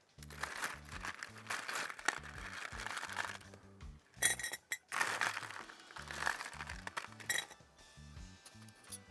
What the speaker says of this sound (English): So ice in the glass.